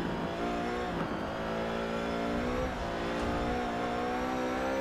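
A Jaguar V12 XJS in the Forza racing game drones steadily and loudly, its V12 engine pitch dropping in steps as it brakes hard from high speed, close and continuous.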